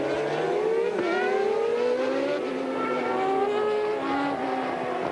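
1991 Formula 1 race cars at full speed, engine whine steady and loud with pitch sweeping up and down through gear changes and cars overlapping, a continuous close roar.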